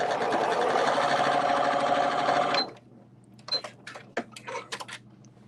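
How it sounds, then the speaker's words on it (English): A sewing machine stitches through webbing in a loud, rapid, steady whirring run for a couple of seconds, then stops, followed by a few sparse clicks and handling knocks. "I am able to sew through that webbing, no problems at all."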